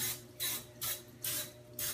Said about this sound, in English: I spray my cookie sheet. This is just olive oil.